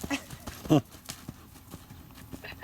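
Horse hooves cantering under a rider, a few soft rhythmic thuds at a middle distance while a person talks.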